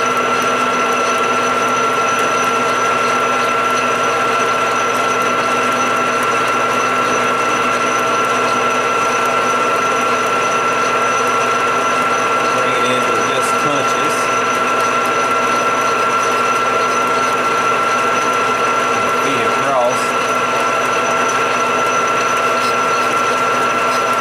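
Lathe turning down the outer diameter of a bronze thrust washer for a 1980 Can-Am MX-6 125, under light tool-bit pressure; a steady mechanical whir and hum with faint cutting chatter runs throughout, with no talk.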